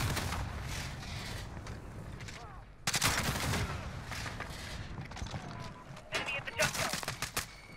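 Gunfire in a Call of Duty: Modern Warfare multiplayer match, dense bursts of automatic fire and single shots coming in waves, loud and close, with players talking over it.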